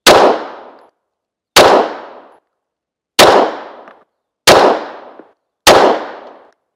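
Five sharp pistol shots from a Micro Roni carbine conversion, fired singly at an even pace about one to one and a half seconds apart, each a loud close crack with a short decaying tail and silence between.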